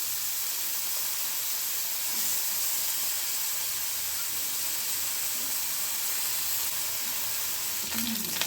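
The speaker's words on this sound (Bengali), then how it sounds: "এবার মাছে লবণ হলুদ মাখিয়ে নিয়ে গরম তেলে হালকা ভেজে নেবে মাছগুলো" Small fish rubbed with salt and turmeric lightly frying in hot oil, a steady, close sizzle and hiss running the whole time with no talk over it.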